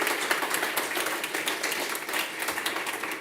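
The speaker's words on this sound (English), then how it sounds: "You can all just do a round of applause even though they're not here." An audience in a hall gives a round of applause, many hands clapping in a dense, steady wash at moderate distance, holding even for a few seconds without speech.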